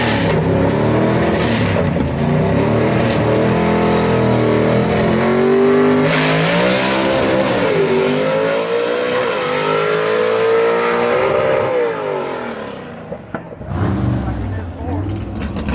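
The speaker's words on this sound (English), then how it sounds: "third generation racer Robbie Walden driving the Moonshot right here" A Plymouth Moonshot 2 gasser drag race car runs down the dragstrip at Knoxville Dragway, engine screaming loud through rising gear changes, then cutting off abruptly near the end, with an announcer talking over it.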